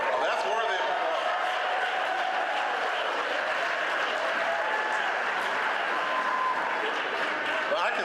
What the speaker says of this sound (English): So, that's worthy of applause.